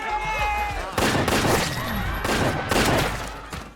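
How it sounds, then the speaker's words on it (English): Gunfire as zombies are shot in a casino in a zombie film, a loud, chaotic burst of several sharp blasts one after another with a dense rumbling tail, close and alone with no talk. "Riley steps in and shoots the zombies to save her"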